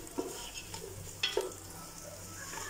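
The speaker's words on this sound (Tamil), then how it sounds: "வெங்காயம் வந்து நல்லா கொஞ்சம் ப்ரௌனாக வதங்கணும்" Chopped onions sauté in a pan for prawn biryani, giving a soft steady sizzle with a few stirring scrapes and clinks of the spoon, heard close and with no talking.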